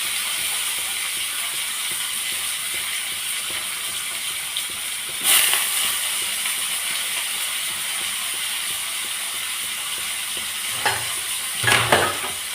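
Onion, tomato and curry leaves frying in a pan: a steady, even sizzle runs throughout, with a few brief scraping stir sounds from the utensil near the middle and end.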